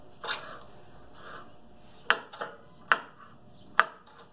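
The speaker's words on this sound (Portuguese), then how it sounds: "Então eu tô picando bem aqui" Mixed leafy vegetables are chopped finely with a knife on a board as feed for a worm farm, giving a few sharp, separate chops with pauses between them, close and clear in a quiet room.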